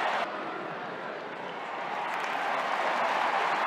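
Australian football crowd at a stadium during a Geelong versus Port Adelaide match roars in a continuous broad wash that swells slightly toward the end, with no clear voices standing out.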